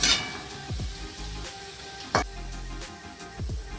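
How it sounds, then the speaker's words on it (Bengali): Onion and potato fry in a kadai with a soft sizzle, punctuated by several stirring scrapes and knocks of a utensil, close and fairly quiet, with no talk. "এটা একটু ভাজা ভাজা করে নেব"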